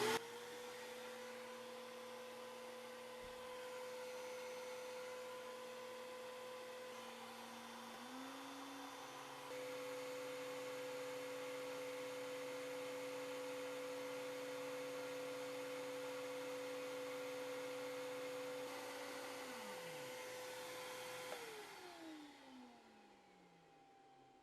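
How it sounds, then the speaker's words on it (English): A vacuum cleaner powered by an Anker Solix C1000 portable power station runs loud and close with a steady motor whine that shifts pitch upward partway through, then winds down at the end. "Let's turn the vacuum on. It's going to get loud."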